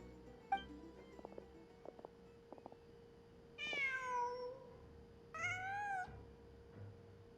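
A cat in Genshin Impact gives two drawn-out meows a couple of seconds apart, clear and fairly close, preceded by a few soft ticking clicks against a quiet hum.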